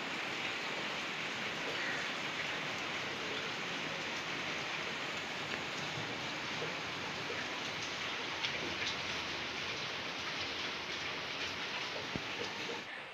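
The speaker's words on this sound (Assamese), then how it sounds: "বৰষুণ পৰিছে পুখুৰীত পানী পৰি আছে" Steady rain falls on a pond outside, a dense, even hiss of drops striking water that holds at the same soft level throughout with no voices.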